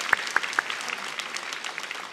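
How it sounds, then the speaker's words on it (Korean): Congregation clapping in a church at a special early-morning revival service, a few sharp separate claps at first that quickly merge into steady, moderately loud applause with no talk over it. "우리 하나님께 영광의 박수 올려드리겠습니다."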